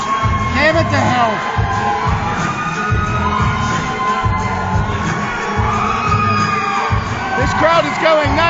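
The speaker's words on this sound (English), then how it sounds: "This crowd is going nuts" A wrestling arena crowd at an RWA Aggression event roars and cheers wildly, with loud sustained shouting, whoops and yells from children and adults filling the whole stretch without a break.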